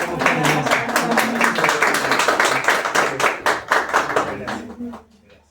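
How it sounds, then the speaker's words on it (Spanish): A church congregation applauds at a first-anniversary service, with steady, dense clapping from many hands for about five seconds before it quickly dies away. "Le brindamos un aplauso, hermano."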